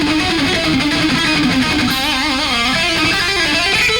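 Picked electric guitar notes run in a fast, steady stream of distorted single notes, played alone and sustained without pause.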